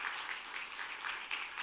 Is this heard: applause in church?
yes